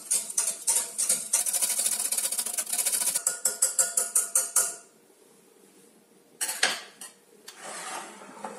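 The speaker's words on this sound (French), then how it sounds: "avec un fouet, je vais fouetter le miso pour bien le mélanger à l'eau bouillante" Metal whisk clattering rapidly against a bowl as miso is beaten into boiling water, a dense run of sharp clinks that stops, then returns briefly after a pause.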